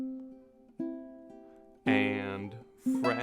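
Ukulele plucking a stanza of a song, sounded as single notes and fuller strummed chords with a short pause between phrases, close and clear with no talking.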